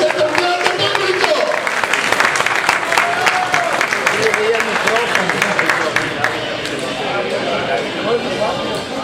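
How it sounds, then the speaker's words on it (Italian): Boxing-match audience claps loudly and continuously, a dense rattling applause that holds steady then eases slightly toward the end, with a voice speaking over it. "Un applauso serio! Voi siete un grande pubblico!"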